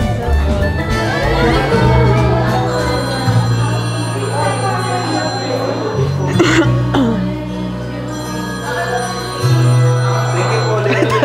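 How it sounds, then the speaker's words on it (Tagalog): A telephone rings with sustained electronic tones over a noisy room during a meeting and fiesta gathering, with a cough or throat clearing breaking in partway through. "Habang may nagre-ring na telepono eh."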